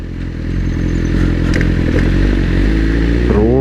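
A BMW S1000RR sportbike pulls hard in second gear on a night road, its engine note loud and rising steadily, with a brief clatter partway through and a climbing whine at the end.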